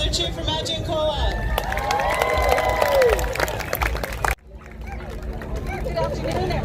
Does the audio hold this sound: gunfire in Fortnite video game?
no